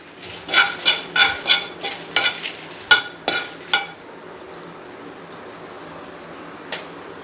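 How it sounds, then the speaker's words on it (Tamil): Dried red chillies are stirred and dry-roasted in a pan for sambar powder: about eight rhythmic scraping strokes in quick succession, then a quiet low hiss with one last faint scrape. "இப்போ வந்து காய்ந்த மிளகாய் அதையும் சேர்த்து இதை மிக்ஸ் பண்ணுவோம்."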